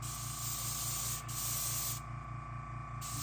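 A Paasche VL5 airbrush sprays white base coat in a steady, close hiss that runs without a break, with a faint hum underneath.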